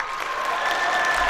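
A school assembly crowd applauds the football team, a brief, even burst of many hands clapping together at moderate volume.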